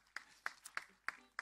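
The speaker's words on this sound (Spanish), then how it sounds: "Fuerte el aplauso, por favor." A few faint, sparse claps land at a steady pace during a live show by a band, each one sharp and separate rather than a full ovation.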